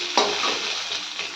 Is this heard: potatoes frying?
yes